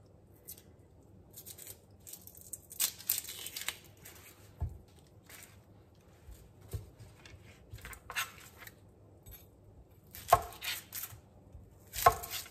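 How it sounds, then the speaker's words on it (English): Onions are chopped with a knife on a board for a Thanksgiving dinner, giving quiet, irregular chops and taps with brief pauses and a few sharper knocks near the end, and no talk. "So I'm just gonna get these all chopped up at once."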